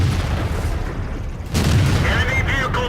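A single heavy tank cannon shot booms out partway through, its blast rolling on over a busy backdrop of engine and battle noise in a tank video game.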